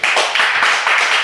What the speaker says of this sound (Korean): 저기 박수 한번 줘요